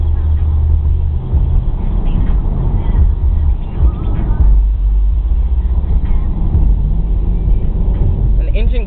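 The engine of a 2012 Mercedes-Benz C-Class growls as the car drives, a loud, constant low rumble of cabin and road noise with a voice talking over it throughout.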